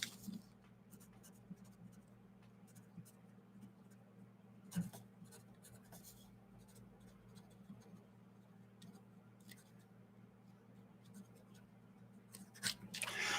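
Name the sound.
writing notes with a pen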